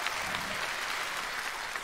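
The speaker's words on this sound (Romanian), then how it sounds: "Aplauze, dacă se poate." A comedy club audience applauds at a stand-up set, a steady dense wash of clapping that fills the whole stretch at even loudness with no talk over it.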